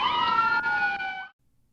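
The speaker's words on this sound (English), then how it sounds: "could you go turn my sirens off" A police car siren wailing close and loud in a steady sustained tone, then cutting off abruptly, leaving near silence.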